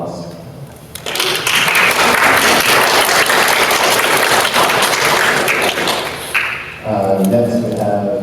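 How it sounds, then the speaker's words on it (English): Audience applause at a SXSW panel session, a loud sustained burst of many hands clapping that swells quickly and fills several seconds, then fades as a voice begins speaking near the end. "Applause."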